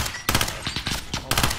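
Rapid gunfire in Call of Duty Modern Warfare, several short bursts of loud, close shots in quick succession, with little else audible between them.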